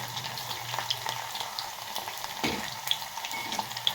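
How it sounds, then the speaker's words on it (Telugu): Already-cooked pieces frying on low heat in a pan until crispy, a steady close sizzle with occasional small pops and faint clinks, and no talking. "వేసానండి వేగుతున్నాయి ఆల్రెడీ కుక్ అయినాయి కాబట్టి త్వరగానే వేగిపోతాయి"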